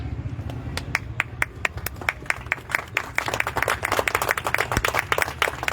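An audience at a speech on the rights of rivers bursts into sustained applause: many hands clap in a steady, dense patter that builds slightly over several seconds.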